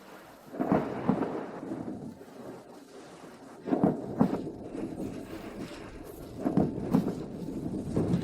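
Rain falls steadily throughout while three deep thunder rumbles roll in at roughly even intervals, each swelling and fading, with no voices.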